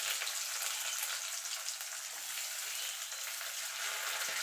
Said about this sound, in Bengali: পেঁয়াজের গায়ে কালার আসা পর্যন্ত একটুখানি ভেজে নেব।